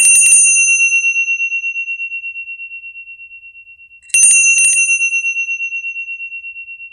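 A healing bell rings with a long, shimmering metallic tone that slowly fades over several seconds, then is struck again and resonates just as loudly, with no voices over it.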